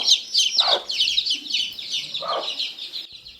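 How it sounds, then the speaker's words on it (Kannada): Chickens cluck and chirp inside a cowshed, several birds calling close by in quick, overlapping bursts, with a couple of deeper clucks standing out and no talk. "ಇಲ್ಲಿ ಕೋಳಿಗಳ ಸೌಂಡ್ ನೋಡಿ ಎಷ್ಟು ಚೆನ್ನಾಗಿ ಬರ್ತಿದೆ ಅಂತ"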